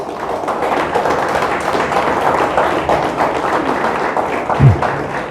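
A church congregation breaks into dense, sustained applause, many hands clapping together evenly for several seconds, with a single dull thump near the end.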